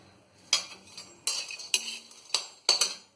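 Peanuts dry-roasting in a pan for jaggery peanut chikki, heard as sharp, close scraping clatters of a spatula against the pan every half second or so, with light rattling of nuts between strokes and no talking.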